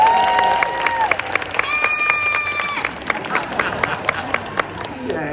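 An audience at a bird show at Disney's Animal Kingdom claps and cheers steadily, while a parrot's whistled tones ring out over the crowd.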